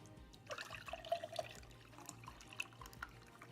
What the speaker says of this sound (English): I'm gonna pour this into a different container where I like to keep my syrup